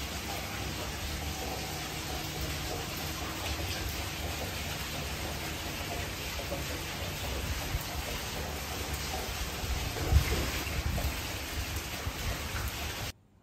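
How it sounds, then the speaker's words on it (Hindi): Steady rain falls continuously as broadband hiss with dense patter, loud and close throughout, no voices and no break until it cuts off abruptly at the end. "उसी टाइम जो है ना बारिश स्टार्ट हो गई"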